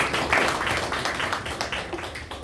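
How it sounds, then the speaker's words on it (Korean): An audience at a Korean panel discussion on lonely deaths claps in sustained applause, a dense patter of many hands that fades slightly toward the end. "박수 한번 부탁드리겠습니다."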